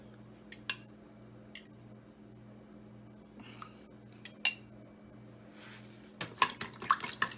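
Eggs whisked in a bowl for a Jamaican black rum Christmas cake: a few sparse metallic clinks over a steady low hum, then a quick burst of rapid clattering strokes near the end.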